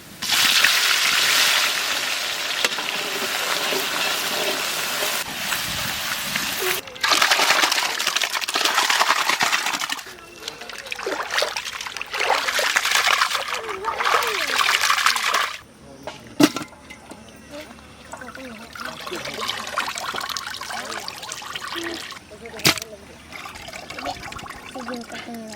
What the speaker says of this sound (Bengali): চিংড়ি মাছ চুলে ভালো করে ধুয়ে নিছি